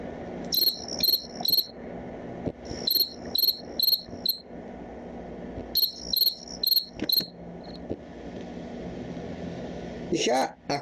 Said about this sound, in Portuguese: Olha aí o grilo.